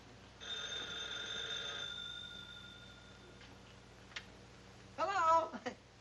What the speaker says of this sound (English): Dagwood, the phone.